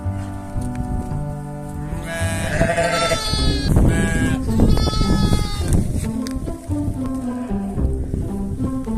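A goat bleats repeatedly at close range, its wavering, nasal cries loud and overlapping with a steady farmyard background and no talking.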